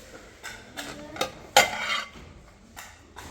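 Ceramic plates clink and knock together in a few sharp clatters, close by, with light rattling in between and no voices.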